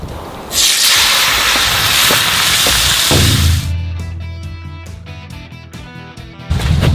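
Minced beef dropped into hot oil in a pan bursts into a loud, broad sizzling roar. The roar holds for about three seconds, eases into quieter crackling with small clicks, then surges again at the end.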